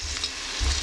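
Shahi jeera (caraway cumin seeds) hits hot oil in a pan while making Telugu bagara rice, giving a brief, steady hissing sizzle heard up close.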